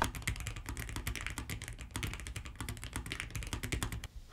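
Rapid typing on a Nuphy Air75 V2 low-profile mechanical keyboard during a speed test, a dense fast stream of close, crisp key clacks with brief uneven pauses and no talk.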